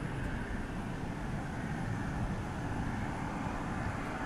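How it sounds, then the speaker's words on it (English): A Turkish Airlines airliner at DFW airport at night, a steady low rumbling engine drone, moderately distant and unbroken throughout, with no voices. "Turkish Airlines there."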